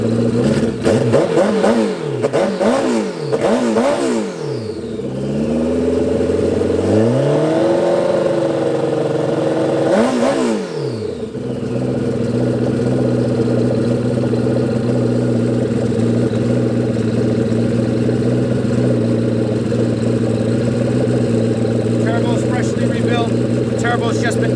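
1993 Suzuki GSXR1100 turbo motorcycle engine, loud and close, revved several times in rising and falling sweeps before settling into a steady, even idle, with a voice talking over it.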